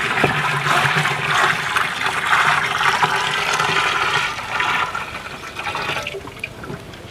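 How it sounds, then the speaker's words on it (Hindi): Water churns and splashes steadily as 20 litres of cow urine is mixed into a 200-litre barrel for bijamrit organic fertilizer, a continuous close sloshing rush that eases slightly toward the end. "गौमूत्र हम इसमें मिक्स करने वाले हैं, तो इसको भी हम ठीक तरीके से मिक्स कर देते हैं।"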